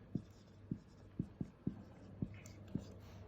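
Pen or pencil strokes on paper while writing out an algebra factorisation solution, a string of short faint taps and scratches at an uneven pace, close to the mic with no talk.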